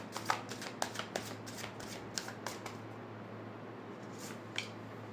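Tarot cards are shuffled by hand in a series of crisp riffling flicks close up, some quieter gaps between them, over a low steady room hum.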